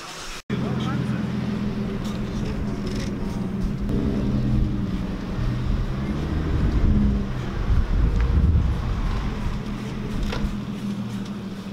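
A car running with its mufflers removed gives a loud, steady, low exhaust drone with rumbling swells, heard close and continuous against wind buffeting on the microphone.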